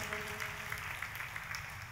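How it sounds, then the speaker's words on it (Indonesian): A church congregation claps at a worship service. The dense, even applause sounds somewhat faint and distant over a low background hum. "tepuk tangannya boleh yang paling meriah buat Tuhan kita"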